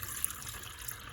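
A tap runs steadily, filling a reptile's water bowl, a continuous hissing gush of water with no other sounds.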